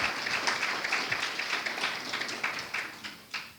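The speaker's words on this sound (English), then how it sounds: "So let's give them a clap." A modest audience claps for a panel of speakers at a moot court competition, fairly quiet and a little sparse, with individual hand claps standing out as the applause gradually winds down.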